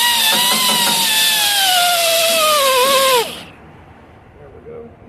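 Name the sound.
power sander on a 1970 Chevy C10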